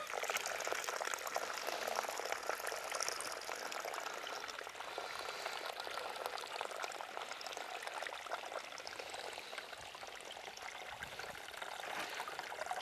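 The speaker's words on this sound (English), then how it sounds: "Already this water is flowing very fast." Water rushes fast and steadily from a soil erosion demo tray into a container, a close, continuous pouring and splashing hiss for the whole stretch with no speech.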